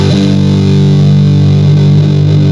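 An electric guitar played through a Big Muff fuzz pedal rings out as a loud, heavily saturated, gnarly sustained chord that holds steady without a break.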